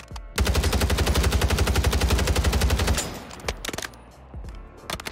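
Rapid machine gun fire in the video game Warzone, a sustained loud burst of evenly spaced shots lasting about two and a half seconds, followed by a few scattered quieter clicks and thuds.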